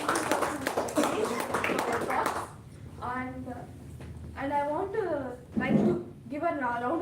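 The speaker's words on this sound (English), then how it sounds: "give a round of applause to all the speakers" An audience claps for the speakers at a Toastmasters club meeting, a burst of applause for about two seconds before a single voice talks on alone.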